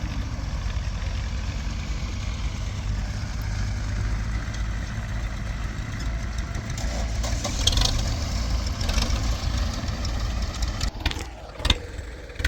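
Four farm tractors run on a field, their diesel engines rumbling in a steady low idle, with a few louder clanks and bursts of rising engine noise toward the end.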